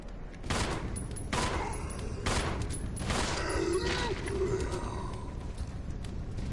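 Sharp video game gunshots ring out in a few spaced bursts while fighting zombies, one being a fire zombie, with someone talking between and over the shots.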